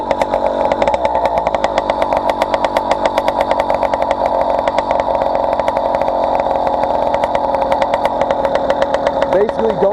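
A motorized bicycle with a 49mm MZ65 two-stroke engine running, a loud, buzzy, rapidly pulsing close drone that holds steady, with a brief rise and fall in pitch near the end.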